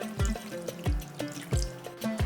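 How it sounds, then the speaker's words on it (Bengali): A small splash of hot water being poured into a pan of soya chunks for a vegetarian Bengali dish, heard as close, wet trickles and several clanking strikes against the pan. "এরপরে দিয়ে দিচ্ছি সামান্য একটু গরম জল।"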